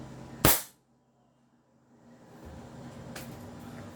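A semi-upgraded airsoft 1911 pistol fires a single sharp, loud shot during a chrono test, followed by near silence, then rising background hum and a second fainter pop near the end.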